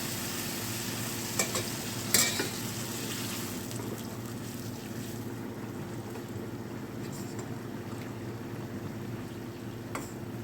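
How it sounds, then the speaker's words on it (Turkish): Rice pilaf simmering in a pot is stirred a couple of times, giving a constant bubbling sizzle broken by a few sharp spoon scrapes against the pot, with no voices. "Şimdi güzelce pilavımızı şöyle bir iki tur karıştırıyoruz."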